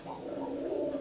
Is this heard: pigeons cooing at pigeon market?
yes